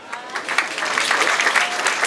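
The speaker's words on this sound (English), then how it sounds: "Very big hand clap for the speaker." An audience claps for the speaker at a school community policing event, a dense burst of hand claps rising and holding steady.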